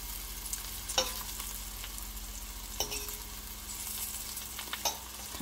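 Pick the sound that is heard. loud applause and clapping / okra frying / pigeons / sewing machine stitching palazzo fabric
okra frying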